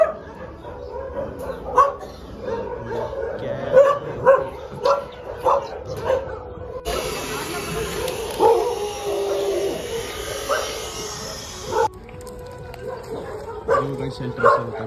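Several dogs bark and yip at a dog shelter, with repeated sharp barks scattered throughout. A person talks over them and a steady hiss rises in the middle.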